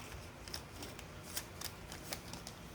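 Paper being folded for origami, with soft close crinkles and several sharp creasing snaps over a quiet background.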